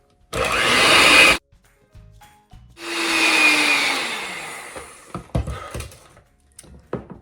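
Electric hand mixer beating gluten-free brownie batter for brownie brittle, running in two loud whirring bursts separated by a short pause, then knocks and clatter as it stops.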